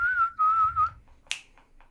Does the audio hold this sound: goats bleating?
no